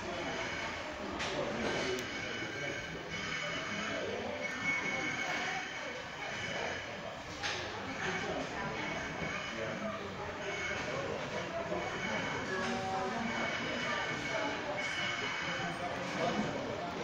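A DCC model train runs through a controlled shunt on a scale layout with class 20 locomotives 20030 and 20064, a steady low rumble of wheels and motor with a few sharp clicks over the rails and faint background chatter.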